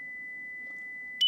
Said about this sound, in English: There's 2 kilohertz,